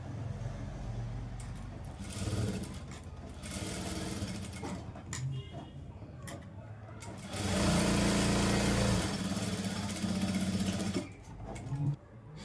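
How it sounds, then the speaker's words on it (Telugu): A sewing machine stitches two fabric pieces of a bow together in bursts of whirring motor noise, the longest run near the end, with someone speaking between and over the stitching. "ఈ 2 పీసెస్ జాయిన్ చేసిన తర్వాత ఇక్కడ లైన్ అనేది డ్రా చేసాం కదా, ఈ లైన్ మీద స్టిచ్ వేసుకోవాలి"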